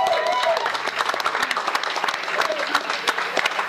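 An audience at a Rough Riders USHL hockey event gives a dense round of applause, many hands clapping close by, with voices mixed in beneath the clapping.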